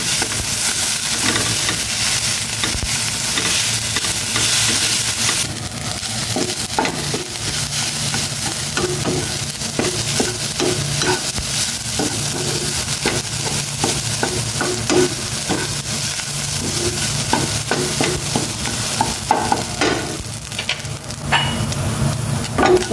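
Rice stir-fried in a hot pan, a dense continuous sizzle and hiss with frequent scraping and stirring clatters throughout, no talking.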